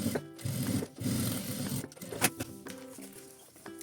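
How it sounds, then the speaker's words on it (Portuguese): A sewing machine runs in quick bursts, stitching fabric lining to clear crystal plastic with a short topstitch, its rapid whirring rattle close and steady with brief pauses between runs. "vinco bem com o dedo e passo um pesponto de um pezinho de máquina"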